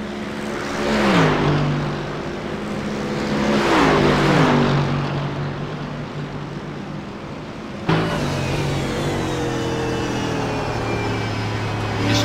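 A race car at the Oceanic Sprint Championship at Monza powering out of the Ascari chicane, its engine note climbing through two loud revving pulls, then a steadier higher-pitched drone as it speeds away, with no talk.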